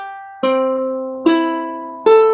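A slightly out-of-tune ukulele is strummed on its open strings three times, each chord ringing and slowly fading before the next, heard close and alone.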